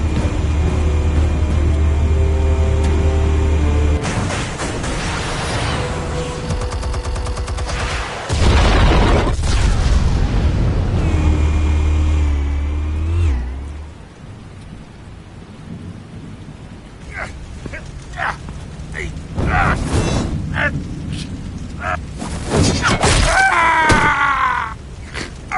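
Explosive charges detonate in the Batman Telltale video game, a series of loud, heavy rumbling booms with crashing debris that gradually fade into a quieter rattling aftermath, followed by a few more scattered bursts.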